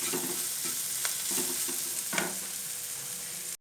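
Onions sizzling steadily in a hot pan for a Kerala carrot-beetroot thoran, with several sharp spoon scrapes and stirs sounding over the frying, close and fairly quiet.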